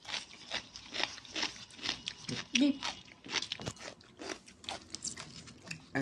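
Someone eats crispy snacks ordered from foodpanda, taking repeated bites that give close, crunchy cracks and chewing sounds in an uneven rhythm, with someone talking between and over the crunches.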